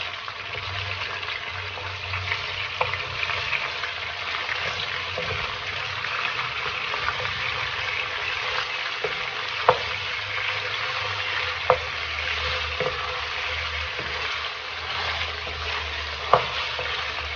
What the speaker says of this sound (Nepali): म पहिला आधी मासु फ्राई गर्छु अनि त्यसपछि चाहिँ आधी मासु फेरि फ्राई गर्छु। मासुलाई म बिस्तारै चलाउँछु।